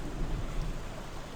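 Steady heavy rain pours in the video game Back to the Dawn 2, a dense, unbroken hiss with a low rumble underneath, loud and close with no voices.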